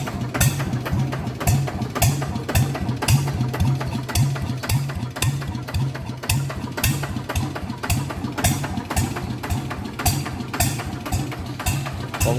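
A ZT155 motorcycle idles through a two-piece aftermarket exhaust pipe with a steady, rhythmic low thrum of closely spaced pulses, loud and near, with no revving.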